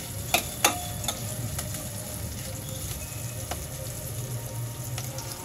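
Garlic fries for moong dal khichdi, a soft, steady sizzle of oil in a pan with a few sharp clinks of a spoon against the vessel near the start, close and moderately quiet.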